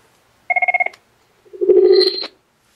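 A school desk phone sounds a short, close electronic warbling ring, followed after a brief pause by a second, longer chirping tone burst, with no talking.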